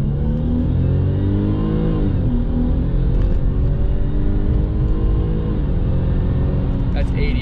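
A supercharged car engine fitted with an open air intake roars loudly and steadily as it revs while accelerating, a dense close-up drone with rising pitch and no voices.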